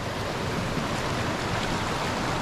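Waterfall where people come to play in the water, a loud, dense, continuous roar of falling water filling the whole clip with no talking.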